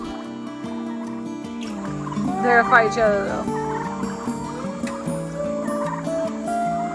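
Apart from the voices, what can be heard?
turkeys gobbling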